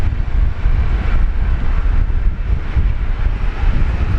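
An Air New Zealand Airbus A321neo arrives at Brisbane Airport from Auckland on runway 19 left, a steady loud low roar with wind rumble throughout.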